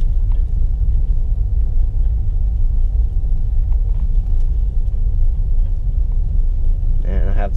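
Low, steady rumble of a car rolling slowly over bumpy historic brick streets in Ybor City, the engine and tire noise continuous and close, with a brief higher rattle near the end.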